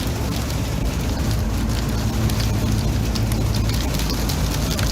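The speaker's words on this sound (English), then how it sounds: "It's June and it's hailing." Hail and heavy rain pound a car during a June storm on a road trip from Oklahoma to California, producing a loud, dense, unbroken drumming hiss with no voices.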